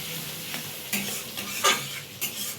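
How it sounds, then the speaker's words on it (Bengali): Spiced dal with potatoes being stirred in a pan, with soft scraping strokes and a few brief clinks over a low, steady sizzle of frying; no voices. "এইভাবে নাড়াতে থাকবো"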